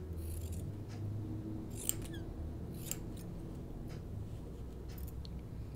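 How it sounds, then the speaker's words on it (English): Scissors trimming dress fabric for a Tea House dress, a few crisp close snips spaced a second or so apart over a quiet background, no talking. "so just trimming that down a little bit more"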